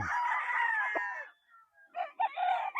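A Kelso cross gamefowl rooster crows one long, loud, close call, then after a short pause gives a second, broken crow, on a gamefowl farm.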